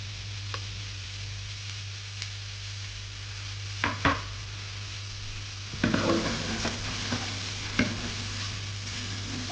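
Garlic sizzles gently in a pan at moderate heat over a steady low hum, with a few sharp scrapes and knocks as it is stirred.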